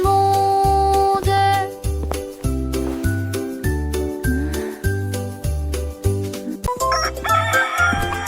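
A rooster crow rings out in a children's song among plucked melodic notes and thumping rhythmic beats, bright and close, with tinkling chimes near the end.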